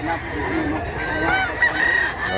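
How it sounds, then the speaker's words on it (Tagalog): Rooster calls among chickens at a fowl market, short crowing and clucking notes near and moderately loud over a murmuring background with faint voices. "Kani nindot sa ni manok to."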